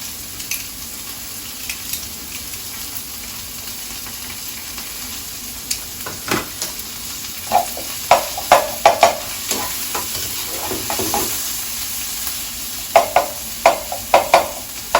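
Onions and minced garlic fry in a pan with a continuous crackling sizzle, while a spatula stirs and scrapes in irregular clusters that grow busier later on, close-up and without voices.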